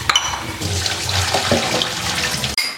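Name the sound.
water running while washing elephant foot yam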